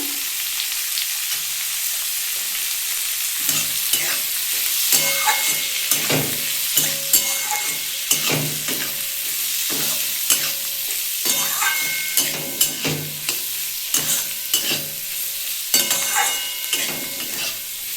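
Water spinach frying with turmeric in a pan: a steady, loud sizzle with frequent scraping stir strokes from a spatula, close up, without talk.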